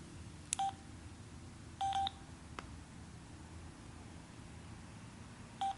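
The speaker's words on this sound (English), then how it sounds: "To get it into Bluetooth pairing mode, hold down the phone button for 5 seconds." A Sena 20S motorcycle Bluetooth headset entering pairing mode gives short electronic beeps, a single tone, then a longer double beep, another after a pause, clear and close over faint background hiss.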